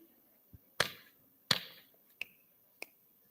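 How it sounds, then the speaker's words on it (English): A game of sharp hand claps and finger snaps: four crisp, close strikes spaced irregularly, two fuller claps followed by two brighter snaps, with a faint softer tap before them and quiet room tone between. "now I'm going to clap and snap and you are going to guess the number"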